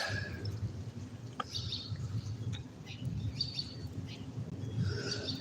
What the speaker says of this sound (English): them little bitty birds that was flying around, got the nest up here, they're back under the bridge